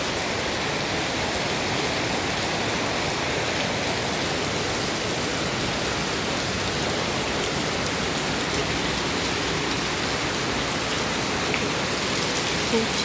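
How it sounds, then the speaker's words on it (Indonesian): Heavy rain pours down in Hong Kong, heard from beneath a house as a loud, unbroken hiss of downpour that stays constant throughout. "Hujannya sangat deras sekali ya"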